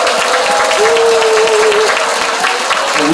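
Loud, sustained clapping from a live broadcast audience, with many hands applauding together steadily and faint crowd noise underneath.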